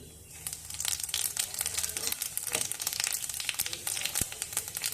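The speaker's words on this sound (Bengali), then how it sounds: "এবার কড়াই গরম করে সর্ষের তেল দিয়ে গরম হলে দিয়ে দেব পাঁচ ফোড়ন" Panch phoron spices crackle and sizzle in hot mustard oil in a wok for Bengali aloo kachori, a steady close frying hiss broken by sharp popping bursts.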